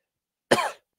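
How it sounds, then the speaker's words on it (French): A single short cough, close and sudden, in otherwise silent surroundings. "Pardon, je tousse."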